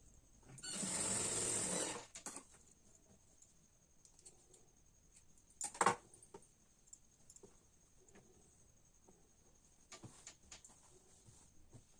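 A sewing machine stitches a padded prince-cut blouse in one short close burst of about a second, followed by quiet handling clicks and one sharp knock.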